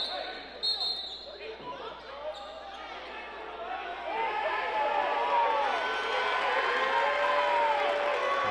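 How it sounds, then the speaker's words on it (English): Lancers fans at a high school boys basketball game against BC High, with crowd noise and cheering swelling in a gym, a basketball bouncing and a voice talking over it. "Now the Lancers cheering"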